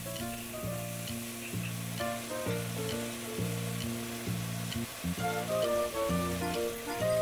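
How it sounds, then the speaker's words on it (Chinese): Asparagus and shrimp stir-fried in a wok with garlic and ginger slices, a steady close sizzle running through the whole stretch over a faint background hum. "咁我将佢炒匀佢嘅，"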